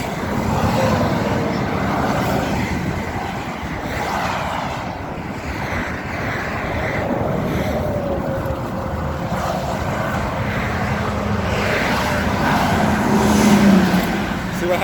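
Traffic rushing past on a busy highway during a roadside tire change, a constant loud roar of engines and tires with a passing truck swelling near the end, while someone talks over it.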